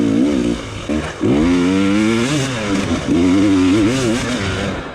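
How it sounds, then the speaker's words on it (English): A dirt bike engine at the 2019 Saddleback Xtreme Hard Enduro revs hard as the throttle is twisted, its loud, close, continuous note rising and falling in pitch without pause and with no talk. "come on, Zach, twist that throttle."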